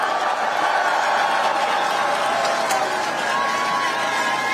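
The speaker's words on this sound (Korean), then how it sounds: "한 번만 더 박수 부탁드립니다" A large crowd at an outdoor political rally in Yongin claps and cheers in a steady, roaring wash of applause and voices that holds at an even level throughout.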